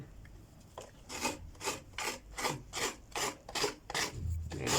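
Coconut is grated on a traditional rabbit-style coconut grater, about nine evenly spaced rasping scrapes in a steady rhythm, close and fairly quiet with no talk.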